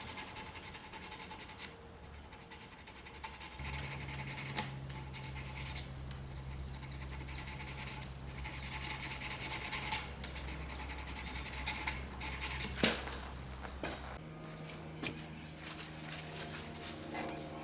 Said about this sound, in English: we're not trying to sand to perfection. All we're trying to do is get off the rough